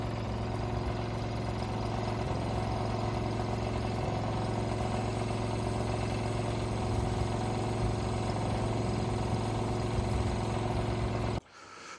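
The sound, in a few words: boomless sprayer engine started and running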